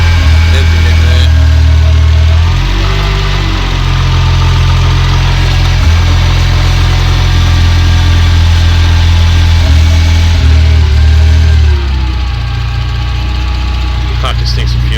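A transplanted engine in an Isuzu NPS truck idles loud and close with a deep, steady drone that sounds rough and uneven, dipping and catching several times.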